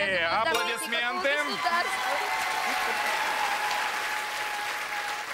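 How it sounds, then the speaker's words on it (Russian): Studio audience applause on a melody-guessing game show, a steady wash of clapping that holds evenly for several seconds, with a voice and a brief musical sting overlapping the opening. "Аплодисменты."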